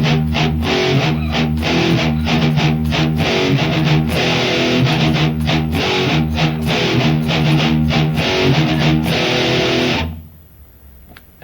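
Distorted electric guitar plays a riff, loud and close with chugging palm-muted notes and ringing power chords, then stops abruptly near the end and leaves only faint room noise.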